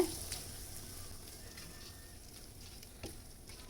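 Food frying in a pan for a rava sweet, browning in the fat: a soft, fairly faint sizzle with light crackles and an occasional stir, steady throughout.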